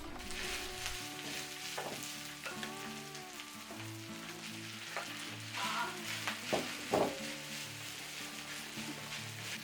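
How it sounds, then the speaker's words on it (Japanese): Cooked rice sizzles and crackles steadily on a hot plate greased with sesame oil while bibimbap is prepared, a close, continuous frying hiss with a few louder pops toward the end, and no talking. "ごま油をひいたホットプレートにご飯をのせていきます。"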